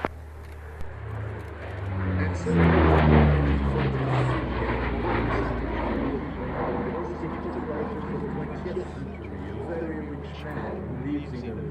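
Propeller aircraft, a P-38, flying overhead, its engine drone swelling loudly then holding as a steady roar beneath ongoing talk.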